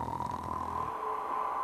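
Audience at a storytelling performance snoring together to imitate a giant: a low, rumbling chorus of many voices breathing and snorting in unison, fairly loud and sustained, fading into a softer nasal hum.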